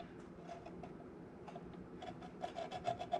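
A Chinese carbon fiber headset spacer is scratched by hand, a faint, close series of short rasping scrapes that grow a little louder and quicker toward the end.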